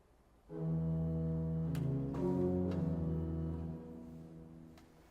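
A low organ plays a short sustained pedal phrase of a few held notes from Bach's Jesu, meine Freude, BWV 610, steady and resonant, fading slightly at the end.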